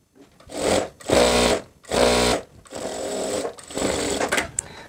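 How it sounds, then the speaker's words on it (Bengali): A sewing machine stitches a skirt seam, running in three or four close, loud bursts of rapid mechanical whirring separated by brief pauses. "এখানেও আমি 2টা করে সেলাই দিয়ে নিব।"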